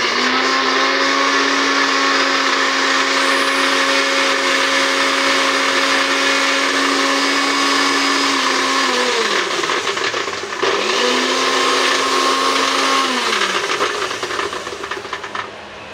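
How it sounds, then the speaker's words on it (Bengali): An electric mixer grinder grinds poppy seeds for a mustard-poppy shukto, with a loud, steady motor whine that runs for several seconds, stops briefly, then starts again and winds down. "এবার আমি পোস্তটা পিষে নিচ্ছি"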